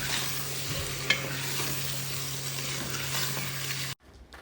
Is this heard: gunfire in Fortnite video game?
no